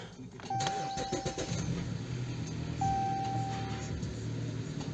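A Jeep Cherokee KL with a faulty accelerator pedal cranks and starts, settling into a steady idle, while two electronic chime tones sound from the dashboard, close and moderately loud.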